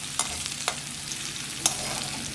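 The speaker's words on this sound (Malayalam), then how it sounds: "ഉള്ളിയും ഇതെല്ലാം ഒന്ന് മൂക്കുന്നവരെ നമുക്കൊന്ന് വെയിറ്റ് ചെയ്യാം" Onions sizzle steadily in a pan for a potato moru curry, a continuous close frying crackle broken by a few sharp stirring clicks.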